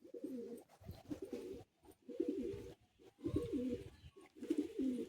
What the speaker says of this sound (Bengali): এত পায়রাগুলো ছটফটে।